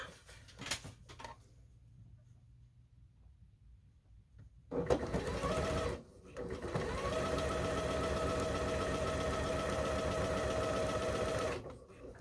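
Sewing machine stitching a quarter-inch seam on a placemat, starting after a quiet stretch and then running steadily and close for several seconds before stopping.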